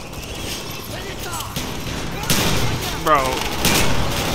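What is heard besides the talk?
shotgun gunfire in Black Ops 1 video game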